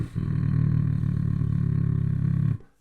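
A beatboxer's vibration bass made with throat and chest: one sustained, buzzing low growl with a rapid pulsing rattle, held steady for over two seconds before cutting off abruptly, voice imitating a deep bass tone.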